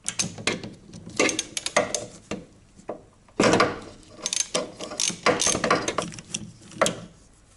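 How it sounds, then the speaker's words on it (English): A socket wrench with a 14mm socket ratchets a brake caliper cover bolt on a Mazda MX-5 Miata: loud, close bursts of rapid clicking come in uneven runs with brief pauses, and no one speaks. "Get your socket wrench and a 14mm socket and remove that cover bolt on the back side of the caliper."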